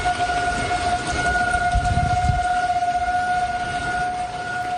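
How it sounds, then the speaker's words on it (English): Tornado sirens blare in the early morning in Woodstock, Georgia, north of Atlanta, during an Easter storm outbreak, a steady sustained wail held at a constant pitch throughout, with low rumbling of wind and rain beneath. "And tornado sirens blaring in the early morning in Woodstock, Georgia."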